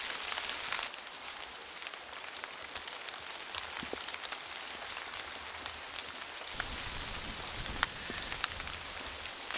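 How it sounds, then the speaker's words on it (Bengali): Light rain falls steadily in a hill valley in Montang, Tripura, a soft, continuous patter with faint scattered drops and some wind, heard alone without talk. "বাতাসের শব্দ, বৃষ্টিও পড়তেছে"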